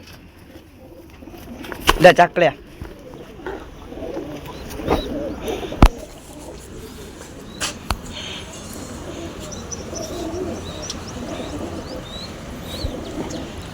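Pigeons coo from a rooftop loft, with soft repeated calls spread through the clip and a few sharper bird sounds near the start, while people talk close by.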